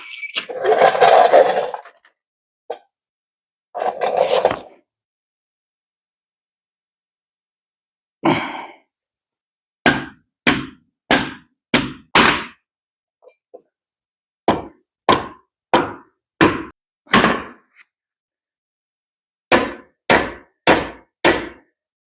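Leaf spring bushings are hammered into the rear hanger of a 1969 Ford F100 in close, sharp metallic strikes grouped in quick bursts of three to five, after heavy sighing breaths at the start.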